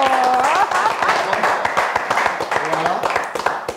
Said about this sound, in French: Alors, on peut quand même l'applaudir.